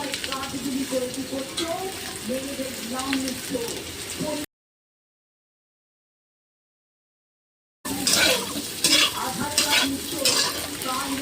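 Potatoes go into a pan of frying spice paste and are stirred, a close sizzle with scraping strokes that cuts out briefly to silence and then returns louder and more vigorous.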